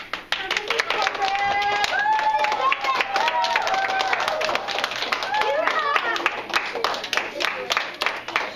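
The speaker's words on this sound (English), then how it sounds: "I want you to cheer for her because she is a fabulous teacher." Children clap and cheer for a teacher honored at a school presentation, with steady applause running throughout and excited young voices shouting over it.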